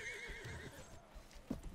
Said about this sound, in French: Je suis lourd aussi pour le pauvre cheval.